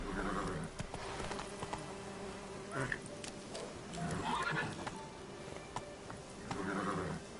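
Horse in The Witcher 3 video game galloping with steady hoofbeats and neighing in repeated whinnies, while a rider talks over it.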